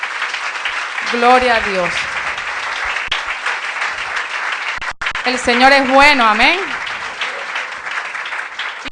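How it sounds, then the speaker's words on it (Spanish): Church congregation applauding the Lord in a Spanish-language service, steady dense clapping throughout while a voice speaks and exclaims over it. "Démosle un fuerte aplauso al Señor."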